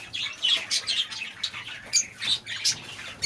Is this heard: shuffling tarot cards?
no